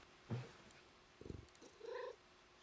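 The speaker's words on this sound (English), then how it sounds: "there's a cat in the menu." A cat in the menu screen of the video game Stray gives a few short, quiet sounds, a soft low murmur followed by a brief higher call, faint against a steady background hum.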